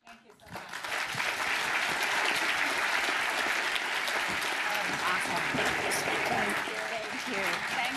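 Sustained audience applause after a keynote at a women's development day event, steady and dense from start to finish following a brief quiet opening.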